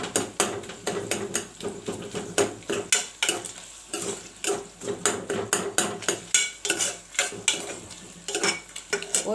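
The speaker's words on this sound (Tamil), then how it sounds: "இது கொஞ்சம் நல்லா வதங்கணும். வெங்காயம் பச்சை வாசனை போகணும்." Chopped onions being sautéed and stirred in a pan for veg pulao, with a spatula scraping and clattering against the metal in a fast, steady rhythm over a faint sizzle, close and continuous.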